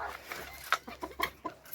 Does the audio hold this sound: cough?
no